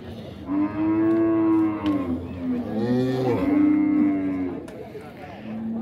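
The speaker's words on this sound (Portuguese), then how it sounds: "Vocês estão vendo as vacas aí, pessoal?" Dairy cows at a cattle fair in Dois Riachos moo loudly and close by, several long drawn-out calls overlapping one another with brief breaks, set against faint background crowd noise.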